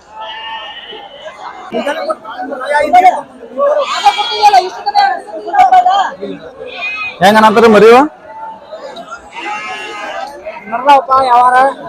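Sheep and goats bleat repeatedly at a busy livestock market in Mudhol, the wavering cries close and loud, overlapping with people talking nearby throughout.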